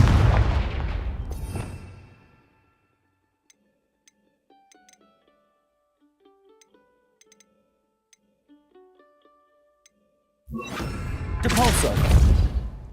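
A casting of the Confringo explosive spell in Hogwarts Legacy bursts loudly at the start and another blast erupts near the end, each a broad booming crack with quiet, sparse tinkling between them.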